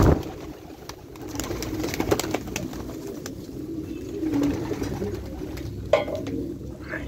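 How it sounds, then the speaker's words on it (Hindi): Pigeons cooing near scattered grain, soft low coos with occasional light taps and clatter in the background, fairly quiet and without talk. "ये बर्ड्स को दाना डाल दिया मैंने"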